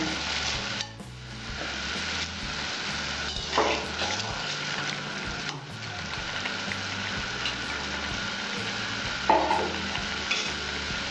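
Small mourala fish drop into a Bengali-style raw mango sour curry that is already boiling in the pot. A steady, close bubbling hiss runs throughout, with a few louder splashes and clinks. There is no speech.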